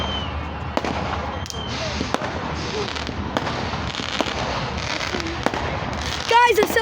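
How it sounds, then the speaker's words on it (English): Fireworks bursting outdoors, a string of sharp booms and crackles spread across the stretch against a steady background noise, with a brighter burst near the end. "That's proof that there's fireworks."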